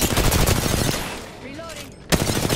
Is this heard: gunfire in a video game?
yes